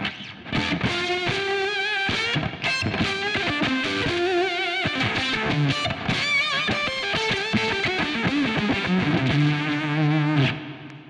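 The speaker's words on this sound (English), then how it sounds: "there's a octafuzz, which is kind of cool" Electric guitar played through an octafuzz effect on a Line 6 Stadium XL amp: a quick run of thick, buzzy, fuzzed notes and bends, ending on a sustained chord, loud and close with no voices.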